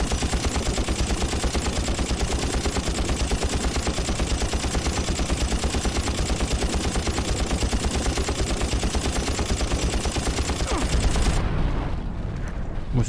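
Rapid, unbroken machine-gun fire rattles loud and steady for about eleven seconds in the video game Far Cry Instincts Predator, aimed at a helicopter, then cuts off into a quieter tail with a few scattered impacts.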